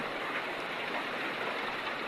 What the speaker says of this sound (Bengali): ইউরোপের এরকম বৃষ্টি দেখি নাই, আজকে প্রথম দেখলাম। বৃষ্টিটা খুব ভালো লাগছে।